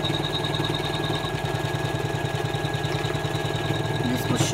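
An embroidery sewing machine stitches in-the-hoop patchwork with a fast, even mechanical chatter and steady motor hum throughout, fairly quiet and close.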